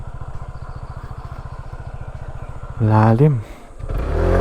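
A motorcycle idles close by with a rapid, even low putter, then a short rise and fall in pitch from a brief rev, while someone speaks briefly and a louder low rumble swells at the end.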